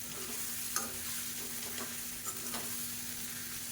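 Kolukattai rice dumplings are stirred into a coconut, coriander and mint masala in a pan. A low, even sizzle runs under scattered spoon scrapes, with a faint steady hum behind it.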